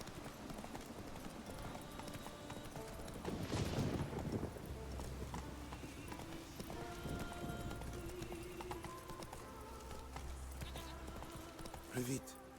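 Riding hoofbeats from a horse in The Witcher 3 on Skellige patter steadily beneath dense game ambience and music, with a louder burst of activity early and a sharp knock near the end.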